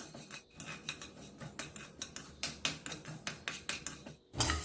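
Chana dal roasting in a pan for herbal podi, with a spoon scraping and clinking against the metal in a quick, steady rhythm of repeated strokes, close and fairly loud, with no talking.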